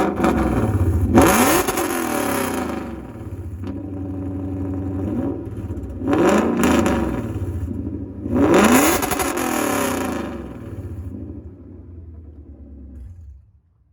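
Modified 2015 Lexus RC with aftermarket exhaust, revved three times while parked at a cars-and-coffee meet: deep rumbling idle rising into loud, close throttle blips that fall back to idle.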